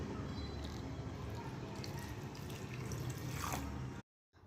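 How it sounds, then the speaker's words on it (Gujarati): Water pours steadily into a pot over half a bowl of jaggery for about four seconds, a continuous close splashing rush that cuts off abruptly into silence. "ગોળ ડૂબે એટલું પાણી લેવું."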